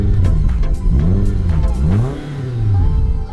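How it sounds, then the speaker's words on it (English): A Suzuki Swift Sport engine revs up and down with a deep, throaty exhaust rumble, loud and close, rising and falling in pitch over a few seconds. "Hear that rumble."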